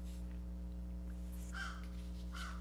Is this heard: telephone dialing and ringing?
no